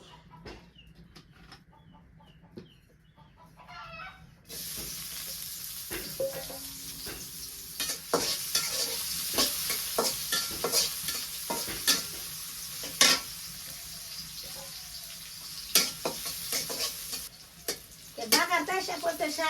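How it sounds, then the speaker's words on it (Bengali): Onions sizzle loudly in hot oil in a wok after a quiet start, with a steady crackle and repeated scraping clicks of a stirring spoon. "কড়াইতে তেলার পেঁয়াজ দিয়ে দিই"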